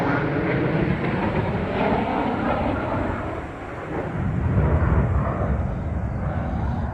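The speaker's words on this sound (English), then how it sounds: "Planes have been flying over for ages." A loud, continuous jet engine roar from planes passing over Park Lawn Cemetery in Toronto swells and lingers overhead, rumbling with broadband noise that briefly dips and then surges again.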